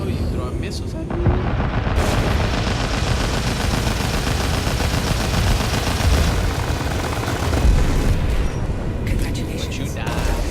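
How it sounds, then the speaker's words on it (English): Missiles launch and blow up in a Star Citizen space dogfight, a dense, continuous roar of booming blasts and rumbling fire that keeps going without a break, with a voice talking over the barrage. "Oh, you throwing missiles at me?"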